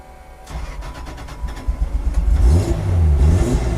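A BMW M6 drift car fires up on the ignition: a brief cranking whine, then the engine catches and rumbles loudly, revving up and settling into a rough, deep idle close by.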